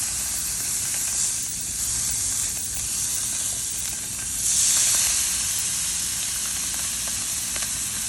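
Coated crab sizzles in a hot pan, a continuous airy hiss that swells briefly midway and then settles back to a steady frying crackle, with no one speaking.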